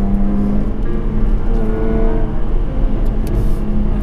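A 2019 Jaguar F-Type P380 coupe with a supercharged V6 and sports exhaust activated, a steady deep engine drone with a low throaty exhaust rumble, continuous and fairly loud from inside the car.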